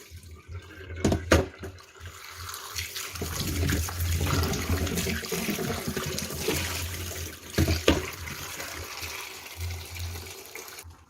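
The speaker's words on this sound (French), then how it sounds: "Maintenant, on va aller bien laver nos pommes de terre." Potatoes being washed under a running tap while cooking beef bourguignon, a steady stream of water splashing for most of the stretch with a few sharper knocks of handling, close and fairly loud, no talking.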